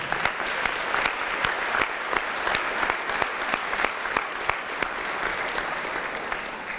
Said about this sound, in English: you deserve a round of applause for what you have done